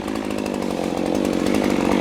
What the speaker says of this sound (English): When I'm sawing, I'm bringing the saw up vertical